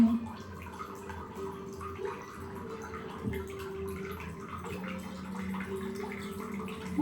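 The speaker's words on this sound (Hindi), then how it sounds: "इस वाटर कूलर में जो है पानी थोड़ा हल्का आ रहा है" Water runs from a water cooler in a home kitchen with a weak, thin flow, making a steady low trickle over a faint background hum.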